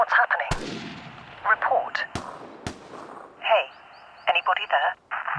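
Gunshots ring out in the survival video game Vigor, several sharp single cracks spread across the moment, with a player talking excitedly over them and some game interface beeps in between.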